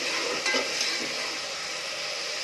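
Tomatoes sautéing in oil and ghee in a pan give a loud, steady broadband sizzle with a few brief stirring scrapes near the start, continuous and close, with no voices.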